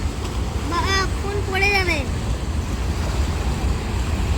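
Fast-flowing river water slaps in waves against a moored boat near Farakka Bridge, with steady broadband wash and wind buffeting the microphone while a voice speaks briefly over it.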